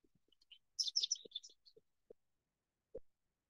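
Birdsong picked up by a static bioacoustic sensor outdoors: a brief burst of high, rapid chirps and trills against near silence, with a few soft low thumps scattered around and one louder knock at the end.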